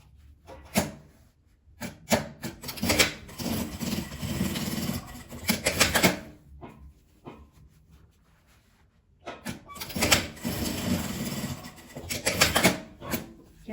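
A sewing machine stitches a seam along a small multipurpose fabric pouch, running in two long bursts of rapid mechanical chatter separated by a quiet pause.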